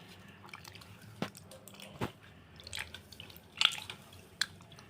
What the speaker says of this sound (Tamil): இப்போ பாருங்கள், உப்பு போட்டு நல்லா புளியை கரைச்சி எடுத்துக்கலாம்.